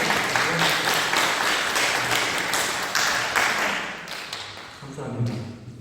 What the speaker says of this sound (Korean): 박수를 막 치면서 우리 표현해 볼까요?